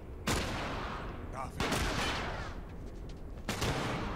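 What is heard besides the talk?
gunfire in the video game The Last of Us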